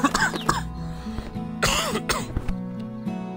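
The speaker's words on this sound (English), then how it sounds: "My apologies if my coughing blows your ears out" A person coughs and clears their throat in harsh, close bursts, a cluster at the start and another midway, with quieter rasping between.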